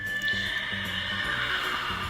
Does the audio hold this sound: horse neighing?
yes